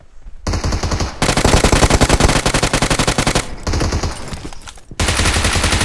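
Rapid automatic gunfire in PUBG, loud, close bursts of cover fire that rattle on almost without pause, with a short break midway before the firing resumes.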